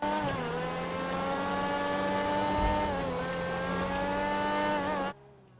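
A video game sports car engine revs steadily at high pitch, the tone dipping briefly and climbing again, loud and continuous before cutting off abruptly.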